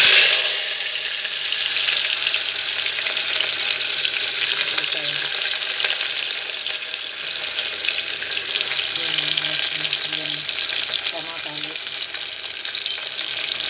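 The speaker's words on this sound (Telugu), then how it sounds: "తర్వాత ఇదిగోండి ఉల్లిపాయలు వేస్తాను." Onions sizzle and crackle steadily in a hot pan for chicken dum biryani, a dense continuous frying hiss with occasional stirring scrapes, close and loud, with no talking.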